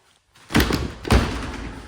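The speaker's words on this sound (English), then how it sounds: "Door kind of sticks a little bit." A sauna door in a budget Finnish-style sauna sticks as it is pulled open, giving two close, heavy thumps about half a second apart, followed by a scraping rumble.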